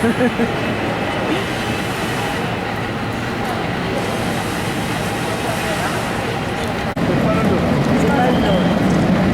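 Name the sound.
San Francisco tram running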